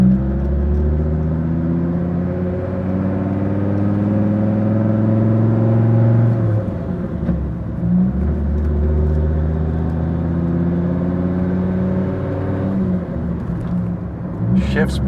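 A Dodge Viper SRT-10 V10 pulls away in first gear with a deep, loud, close-up rumble that climbs steadily in pitch under a brief word or two.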